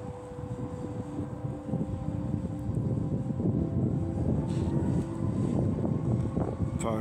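A Parrot Anafi drone hovers overhead with a steady, thin motor whine and propeller buzz, moderately loud over outdoor wind noise, continuous throughout.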